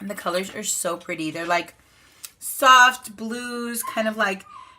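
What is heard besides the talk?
None of the usual background noises is heard.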